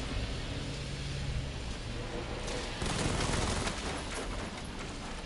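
Rapid machine gun fire in the video game Batman: Arkham Knight, a dense, continuous burst of shots running throughout, mixed with vehicle rumble and game noise.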